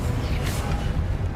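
A Confringo spell blast in Hogwarts Legacy: a loud, sustained fiery boom with heavy rumbling low end filling the moment, no speech.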